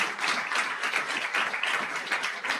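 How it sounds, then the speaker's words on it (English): A convocation audience applauds its college researchers, a dense, even wash of many hands clapping close and loud throughout, with no voices standing out. "Please applaud our researchers in our college."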